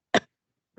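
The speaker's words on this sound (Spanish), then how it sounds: "perdón, regresó la tos" One short, sharp cough close by, followed by a faint tail and a quiet trace of a second sound.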